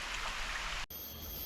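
Water flowing steadily through bamboo at a Bali coffee plantation, a dense rushing trickle that cuts off abruptly partway, followed by a quieter, thinner flow.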